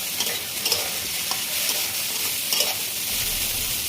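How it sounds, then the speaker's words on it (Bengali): Ingredients for a bharta being fried in hot oil until reddened, with a steady close sizzle and occasional stirring scrapes and clinks. "তেল দিয়ে দিয়েছি, এবার লাল করে ভেজে নেব"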